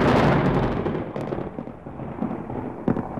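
Thunder breaks in a loud, close crash and then rolls off into a fading rumble, with a sharp crack near the end.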